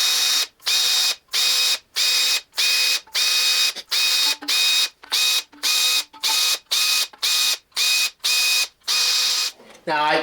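A hand ratchet works a thread chaser through the threads of a Triumph TR4 engine block, clicking in about sixteen evenly spaced, loud, close bursts with brief gaps between them.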